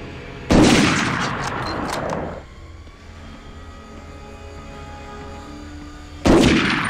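Gunfire from the PS1 video game Medal of Honor: a loud burst of shots opens, rings out and fades into low background game ambience, then another sharp burst erupts near the end.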